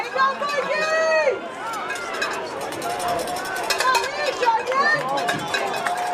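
Vikings fans cheer on home turf during a high school football semifinal, a broad crowd roar rising and falling with chatter and some whistles carrying through the stands.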